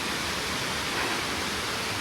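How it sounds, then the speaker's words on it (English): Steady rushing roar of an Alpine waterfall on a mountain hike near Saint-Gervais-les-Bains in the French Alps, continuous broadband white-noise wash heard close and alone, with no voices. "Never far away from a waterfall in the Alps."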